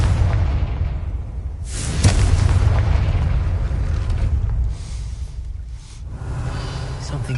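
The Confringo fire spell bursts in Hogwarts Legacy, a loud rumbling explosion with a whooshing blast that swells and rolls on for several seconds, with game voice faintly present.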